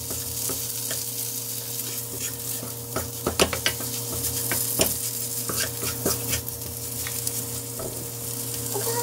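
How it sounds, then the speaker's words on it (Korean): Gwamegi, dried herring, pan-fried in a seasoning sauce over lowered heat, sizzling steadily and close with a faint oily crackle, while a utensil stirs and scrapes against the pan in scattered taps and clinks. "앞뒤로 가메기를요, 양념과 함께 살짝 앞뒤로 한 번만 구워주면"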